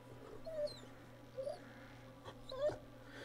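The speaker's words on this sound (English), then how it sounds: "there's a dog in here for sure" A dog whimpers in a few short, thin whines, fairly faint against a low steady hum, in what sounds like an indoor space, with no one talking.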